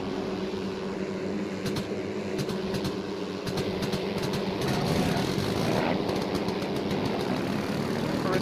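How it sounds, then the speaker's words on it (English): A heavy old aircraft engine starting in a video game, Wings Over Flanders Fields, rumbles and drones steadily with a rough, throbbing texture, building slightly in intensity, no talking. "start the old engine"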